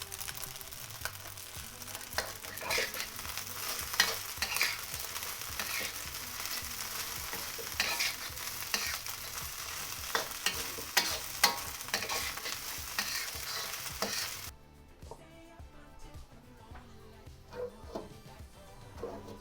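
Chinese sausage and spring onions stir-fried for fried rice in a hot pan, loud crackling sizzle with repeated quick scraping and clanking of the spatula, then the sizzle drops to a quieter, steady fry with no talking.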